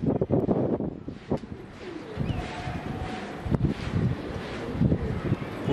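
Flocks of racing pigeons coo in low, uneven bursts around a loft while others stay aloft, with wind buffeting the microphone throughout and no voices.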